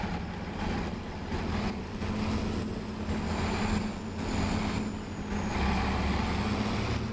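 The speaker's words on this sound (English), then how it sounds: "Yeah, I love everything about this tractor." Tractor engine in a farming video game, a steady low drone running throughout at moderate loudness with a slight swell near the end, no voices.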